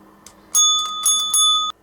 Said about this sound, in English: This is literally just metal, just a bell, and it requires physical touch.